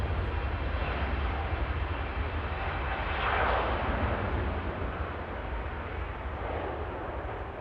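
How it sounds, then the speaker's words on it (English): Virgin Atlantic Airbus A350 jet moving at Manchester Airport, a distant, fairly faint broadband roar that swells briefly in the middle and then eases, with no voices. "There's the Virgin A350 on the move now."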